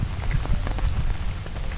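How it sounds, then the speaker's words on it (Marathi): Steady rain falls across a botanical garden, a dense, even patter of drops striking leaves and ground at close range, with no voices present. "बारिश तो रुकने का नाम ही नहीं ले रही है, दिवस भर पाऊस है।"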